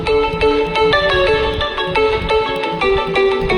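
A phone ringtone plays a repeating electronic melody, loud and steady, with no talk over it.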